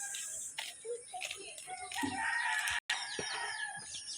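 Chickens cluck and a rooster crows nearby amid a busy farmyard chorus of fowl, with faint background noise.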